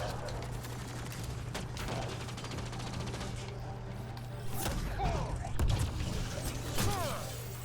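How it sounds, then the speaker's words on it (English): Ammo reloading in Mass Effect: Andromeda: metallic clicks and ratcheting weapon mechanisms over a steady game hum, with a few sharp rapid shots, and a voice talking over it. "Loading ammo."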